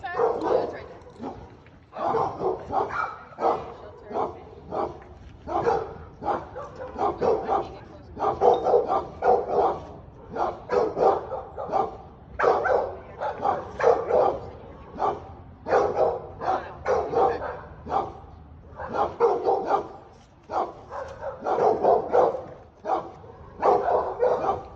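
A dog barks repeatedly from a yard during a roadside police encounter, sharp bow-wow bursts arriving in rapid irregular clusters with brief pauses, fairly close and loud, sometimes mixed with yips.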